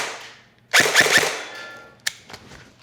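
An airsoft gun fires three quick shots in close succession at an electronic target, each a sharp snap, followed by a short pause and a couple of fainter clicks.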